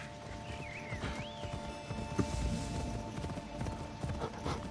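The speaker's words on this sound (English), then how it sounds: "Come, horsey." A horse trots in the video game Assassin's Creed Odyssey, with quick, close clip-clop hoofbeats over a game soundscape that also carries a short whinny and faint bird calls.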